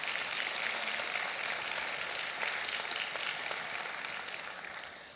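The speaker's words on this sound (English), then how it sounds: "Please give him another round of applause." An audience in a chapel claps after a pipe organ performance, giving a dense, sustained round of applause that holds steady and then begins to fade toward the end.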